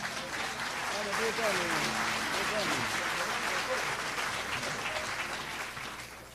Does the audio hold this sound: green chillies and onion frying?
no